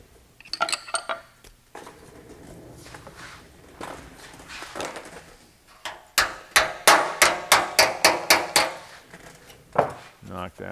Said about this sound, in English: Got to knock this flange back a little bit